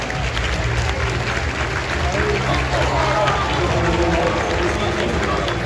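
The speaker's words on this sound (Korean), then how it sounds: "큰 박수 부탁드립니다." A stadium crowd applauds loudly and steadily at Oh Seung-hwan's jersey retirement ceremony, a dense, continuous roar of clapping and crowd noise that holds at full strength throughout.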